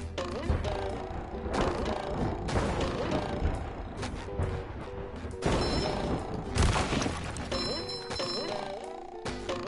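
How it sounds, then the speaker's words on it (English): Explosions in the SpongeBob Battle for Bikini Bottom Rehydrated video game, a run of loud booming bursts and rumbling impacts mixed with game effects and music, no talk. "don't look at explosions"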